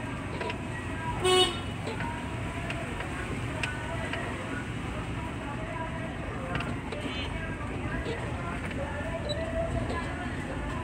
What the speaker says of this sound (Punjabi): ਹਾਰਨ ਦਿਓ।